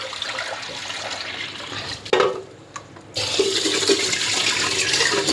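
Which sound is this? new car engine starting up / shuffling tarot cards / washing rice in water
washing rice in water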